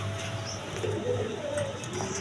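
High-flying Giribaz pigeons coo softly in a short, continuous low burble against a steady background hum.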